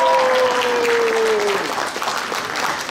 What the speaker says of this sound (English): Let's just do a round of applause